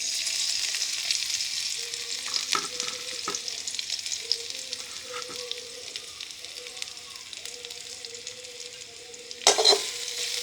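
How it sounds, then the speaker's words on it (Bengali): Chopped onions go into hot oil and fry with a steady, soft sizzle, with brief stirring scrapes and a louder crackle near the end. "আমরা আগে তেলটি গরম করে নিয়েছি, এখন আর ভিতরে পেঁয়াজ কুচি দিব।"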